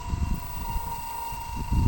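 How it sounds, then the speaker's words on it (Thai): A sudden outdoor gust of wind beside a solar-powered water pump buffets the microphone with low rumbling, swelling louder at the end, with no talking. "นี่ครับลมกระทันหันครับ"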